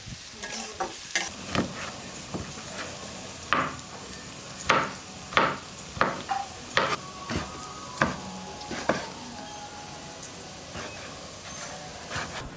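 Potato and onion fry in a pan with turmeric and salt, a soft background sizzle broken by repeated scrapes and knocks of a spatula stirring, close and moderately loud with no talking.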